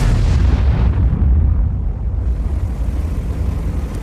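Artillery shells landing in World of Tanks, a loud deep rumbling blast that rolls on and slowly fades into low booming, with no voices.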